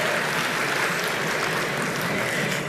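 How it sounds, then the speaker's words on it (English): Delegates at an NDP party convention applaud after passing an agenda, a dense, even wash of clapping from a large hall crowd, sustained throughout. "Give yourselves a round of applause."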